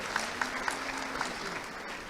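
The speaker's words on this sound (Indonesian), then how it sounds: "Dan kita beri tepuk tangan sekali lagi Pak Ibu untuk Pak Gus Pardi Gaus ya" Audience applause for a speaker at a university graduation ceremony in West Sumatra, faint and fairly thin, with a few sharper individual claps standing out over a steady patter for about two seconds.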